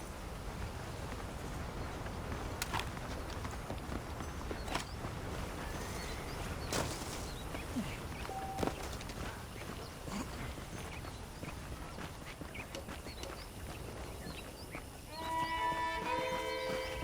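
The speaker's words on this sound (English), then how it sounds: "let's see if you can still ride a horse" Horse hooves clip-clopping in the Red Dead Redemption video game, a steady rhythmic trot of close, moderately loud hoofbeats over a faint ambient bed, with a musical cue near the end.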